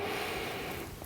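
One deep, airy inhale during a postnatal yoga breathing exercise, close and breathy, fading out within about a second, with no talking.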